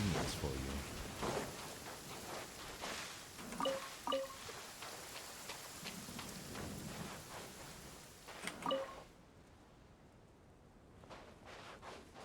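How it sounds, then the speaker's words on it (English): Heavy rain falling inside the Genshin Impact video game, a steady broadband hiss running throughout with brief louder splashes and occasional game sound effects, fading quieter near the end. "This heavy rain must be quite an inconvenience for you."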